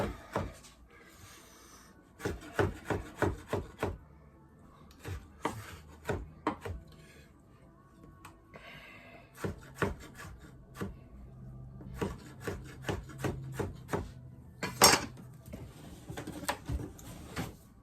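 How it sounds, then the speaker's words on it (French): A ripe tomato being sliced for Lebanese tabbouleh, a run of close, crisp knife strokes through the flesh and onto the cutting board, falling in quick bursts with short pauses between them and no talking over them. "On coupe une tomate bien mûre."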